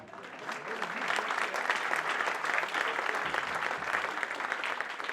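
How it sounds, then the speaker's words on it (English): Steady applause from a jazz conference audience, a dense wash of many hands clapping that holds at an even level for several seconds. "Let's clap for him anyway."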